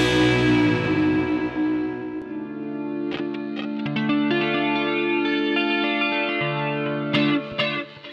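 Electric guitar played through a Line 6 HX Effects unit on a preset: a loud sustained chord with lush chorus and echo decays, then picked notes ring out with repeating delays, no talk.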